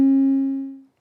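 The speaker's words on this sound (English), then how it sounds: "This is what you hear when the game restarts." A video game restart sound effect from a Wwise Roll a Ball Unity demo: a single clean, loud tone struck once that rings with bright overtones and fades out smoothly within a second.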